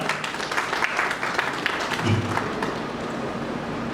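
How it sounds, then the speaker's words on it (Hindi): Loud, dense applause fills a gathering of the Bharat Vikas Parishad held at a school, a steady wash of many hands clapping throughout with no clear pauses. "जोरदार तालियां एक बार"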